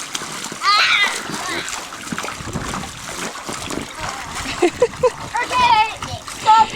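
Children kicking and splashing in water, with continuous close sloshing and splatter mixed with kids' voices and an adult talking over the busy, uneven churn.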